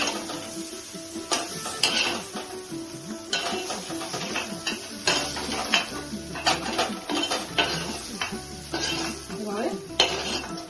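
Fried yardlong beans are lifted out of a pan with a utensil, making repeated metallic scrapes and clinks against the pan over a soft sizzle. It sounds close and busy throughout, with no clear speech.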